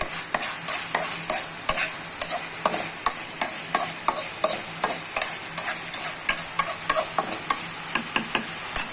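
Potatoes fry in ghee and mustard-soybean oil with chilli powder and salt, a constant close sizzle broken by a regular rhythm of spoon-on-pan stirring scrapes, roughly two per second, with no talking.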